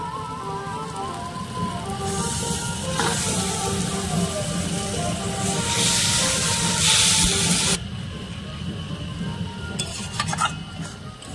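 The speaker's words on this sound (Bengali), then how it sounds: "তো এবার আমি চিকেনটা দিয়ে দিচ্ছি" Solid chicken pieces fry in a pan for a stuffed rolled snack. A steady hiss of sizzling and steam runs under repeated scraping and clinking of a stirring spoon, then eases near the end.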